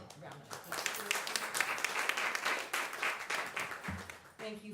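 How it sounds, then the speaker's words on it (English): Audience at a chapel service applauding, a dense patter of many hands clapping at moderate distance, steady then tapering, with a voice starting to speak near the end. "Let's give them another round of applause."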